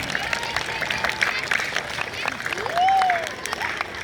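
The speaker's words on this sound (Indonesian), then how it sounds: "Silakan tepuk tangan semuanya." A gathering of children applauds at a storytelling event before breaking the fast, the clapping moderate and steady, with voices and a brief whistle-like tone rising over the crowd.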